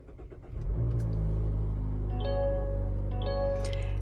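A 2023 Mazda3 Carbon Edition started by keyless push button: a brief crank, then the engine catches into a steady close idle rumble, with a chime beeping over it.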